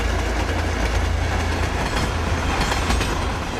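A train rolls along railway tracks near a makeshift hut, a steady loud rumble with faint clickety-clack and occasional wheel squeal throughout, no voices.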